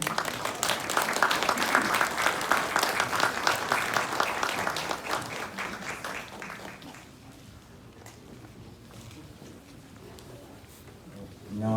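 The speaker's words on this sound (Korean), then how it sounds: "큰 박수로 맞이해 주시기 바랍니다" Audience applause at a memorial ceremony greeting two high school student speakers, a dense, loud burst of clapping from a crowd that fades out after about seven seconds into quiet room tone.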